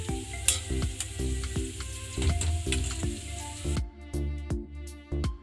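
An egg sizzles in a pan for egg fried rice, a steady crackling fry with sharp clicks and taps of a utensil against the pan, close and fairly quiet with no speech.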